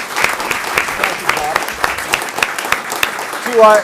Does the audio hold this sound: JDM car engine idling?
no